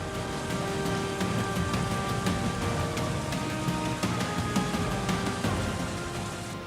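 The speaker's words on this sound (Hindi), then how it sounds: "लगातार हो रही झमाझम बारिश के चलते नदी नाले उफान पर हैं" Heavy rain pours down during flooding in the hill regions, a dense, unbroken hiss of drops striking surfaces, loud and steady throughout with a faint tonal hum layered beneath.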